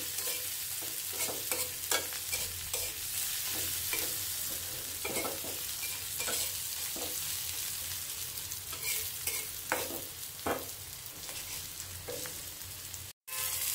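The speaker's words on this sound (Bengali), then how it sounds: "পেঁয়াজটিকে আমি হালকা একটু ভেজে নিচ্ছি যেন নরম হয়।" Onion lightly frying in a pan with a little salt, a continuous soft sizzle punctuated by regular scraping and knocking stirs, close by and without speech.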